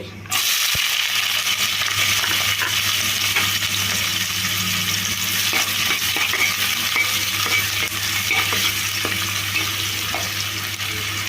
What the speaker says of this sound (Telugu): ఈ ఉల్లిపాయ ముక్కలు చక్కటి కలర్ వచ్చే వరకు ఫ్రై చేసుకోవాలి